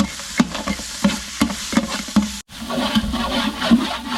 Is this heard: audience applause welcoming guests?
no